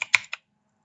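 Three quick keystrokes on a computer keyboard, close and crisp, the middle one loudest, then silence.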